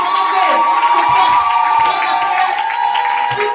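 A church congregation in a loud crowd of cheers and shouted acclamations, with sustained voices and a raised leader's voice carrying over the din.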